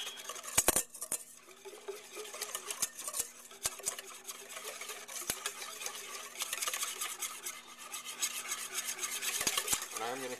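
Zabaglione custard with vanilla and a dash of ground cinnamon being stirred or whisked in a pot, a faint, steady scraping and swishing with a few sharp clinks of the utensil, no voices.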